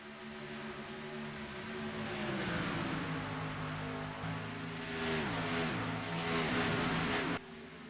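Racing trucks in a Gainbridge Truck Series race at Charlotte Motor Speedway, a dense sustained engine roar from a pack of vehicles with rising and falling pitch as they pass, loud and continuous.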